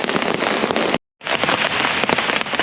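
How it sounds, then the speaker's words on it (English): Heavy rain drums densely on a camping tarp at close range during a July hike, a loud continuous patter broken by one short silent gap. "the rain's kind of died down"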